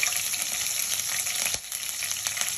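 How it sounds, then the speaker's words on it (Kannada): Whole cloves sizzle in hot oil with a steady, close crackling hiss that briefly softens midway before continuing. "ಲವಂಗ ಹಾಕ್ತಾ ಇದ್ದೀನಿ"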